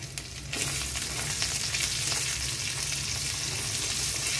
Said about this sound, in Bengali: এবার আমি পেঁয়াজটা দিয়ে দেব।